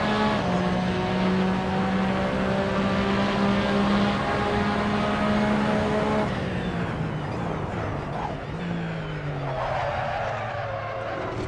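Porsche 911 RSR race car in the Assetto Corsa racing game, its engine droning loud and steady with a clear gear change partway through, then revving and easing off under braking.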